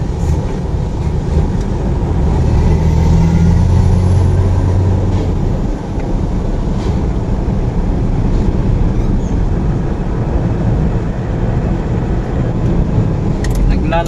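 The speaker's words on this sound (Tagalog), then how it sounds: "Truck kalaban mo dito guys, ingat kasi mga truck, lalaki ang truck." Heavy traffic in Tondo, Manila with large trucks rolls past in a loud, continuous, low engine rumble and road roar, with occasional faint squeals and hisses, heard from close within the flow of vehicles.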